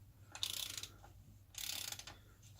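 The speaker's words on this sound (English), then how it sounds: "So once you've done it with the jack handle for a bit, back to the ratchet." A ratchet works loose the oil drain plug on a Vauxhall Astra: two short bursts of quiet, close clicking, each lasting under half a second, with no talk.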